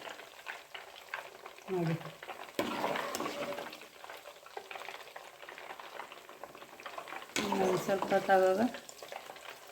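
Butter bubbles and sizzles steadily in a pan as it simmers down into ghee, a close, continuous crackle that swells louder near the end while someone speaks over it.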